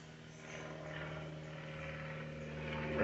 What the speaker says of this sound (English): See the plane coming over again?